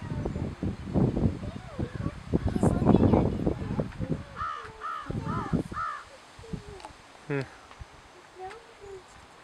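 A small bird outdoors near grass gives a few short, squeaky calls, mostly after a stretch of close talking from a child and an adult.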